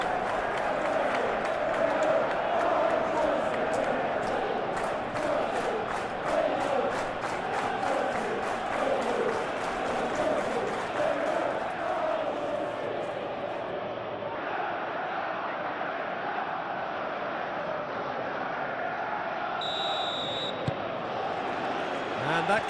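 Large stadium crowd at a Chelsea vs Barcelona UEFA Champions League match, a steady dense roar of many voices with occasional rising cheers, continuous throughout with no clear break.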